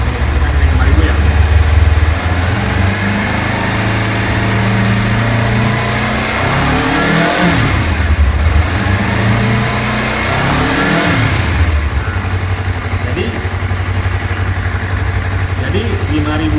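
Honda CBR250RR motorcycle engine rising and falling through revs, loud and close, with two distinct rev sweeps in the middle and a steady idle-like drone before and after; a voice talks over it.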